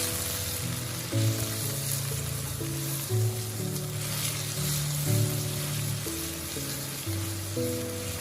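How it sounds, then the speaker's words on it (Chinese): Tofu skin simmering in broth in a wok while a spatula turns it, producing a steady bubbling sizzle with rhythmic scraping strokes repeating throughout. "接着用铲子翻炒均匀， 让所有的腐竹都全部进到汤汁里面。"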